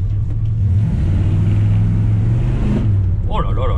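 A 1970 Chevrolet C10 V8 pickup gives a loud, steady low engine rumble from inside the cab, pulling hard in drive at low revs, with a voice talking briefly near the end.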